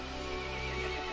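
A horse whinnies in a long, steady, tonal call. Hooves may be clip-clopping underneath, and the sound is dense and continuous over a short moment.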